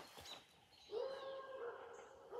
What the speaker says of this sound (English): can you guys hear those dogs?